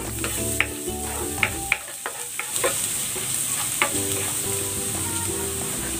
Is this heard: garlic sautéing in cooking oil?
yes